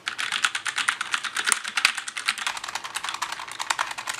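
Rapid, steady typing on a low-profile Logitech G915 TKL keyboard with tactile switches, close and clear, a dense run of crisp key clicks with no voices.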